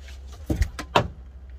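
A mosquito screen is unhooked from the door of a 4x4 camping trailer, making a few sharp plastic-and-metal clicks and a light rattling thud, close and brief against a quiet background.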